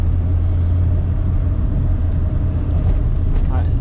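A Porsche 944 on the road, its engine a steady low rumble heard from inside the car, continuous and fairly loud throughout with faint higher noise on top.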